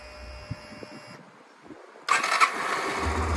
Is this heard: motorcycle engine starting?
yes